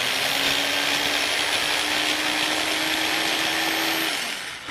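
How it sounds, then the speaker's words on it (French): An electric chopper whirs steadily at high speed mincing tomato pulp for a face mask, a loud close motor drone holding a constant pitch before winding down at the end, no speech. "Donc là je vais hacher ma tomate."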